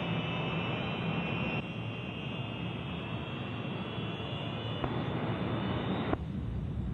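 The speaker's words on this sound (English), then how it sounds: "Once you're lined up on the runway, all you need is a final check and power for the takeoff roll." A Boeing B-47 Stratojet jet bomber runs up its engines on its takeoff roll, a loud, continuous roaring jet rush with a high whine that shifts in pitch, recorded on an old 1950s film soundtrack without talking.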